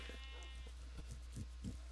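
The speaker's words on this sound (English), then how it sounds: "There's naked sheep everywhere." Shorn sheep in the Minecraft video game bleat several times in short, quick calls, fairly close and clear over a steady low hum.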